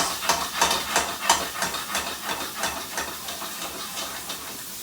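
Mushrooms hiss and sizzle in a dry skillet with no fat while being tossed, a steady frying noise with rhythmic pulses as they are shaken, fairly close and clear with no voices.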